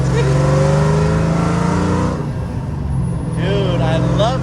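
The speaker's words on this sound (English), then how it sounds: "This FOXBODY sounds absolutely stunning." Loud engine of a 1986 Ford Mustang Foxbody pulling through the gears, a rising drone that drops briefly at a shift then climbs again, heard close from inside the car.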